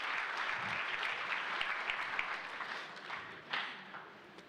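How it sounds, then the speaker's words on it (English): An audience at a book launch applauds the panelists with a dense, steady wash of clapping from a large crowd, heard at a distance and fading slightly toward the end. "Another warm round of applause, please,"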